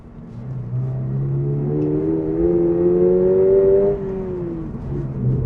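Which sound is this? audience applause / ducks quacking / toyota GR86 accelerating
toyota GR86 accelerating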